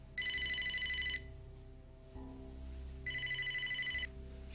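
A telephone rings twice in an indoor soap-opera scene, each electronic ring trilling for about a second over a low room hum, with a pause between rings and nobody speaking.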